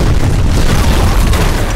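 Rumbling explosion blast from the action film Expendables 2, a loud, sustained low boom filling the whole clip with no voices over it.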